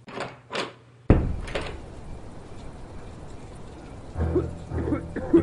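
A locked door rattles in the video game A Darker Shade of Red, a sharp jolt followed by a brief clattering shake, loud and close, amid faint background ambience.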